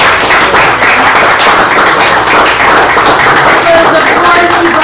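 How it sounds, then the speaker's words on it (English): A live audience gives a round of applause, a loud, dense, steady wash of clapping that lasts throughout, with voices mixed in. "Can we give him a round of applause"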